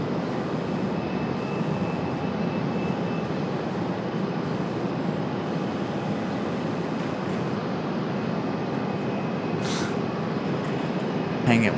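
A jet landing on runway 23 left at Raleigh-Durham International Airport, a steady broad engine roar that holds loud and constant throughout, with a brief hiss burst near the end.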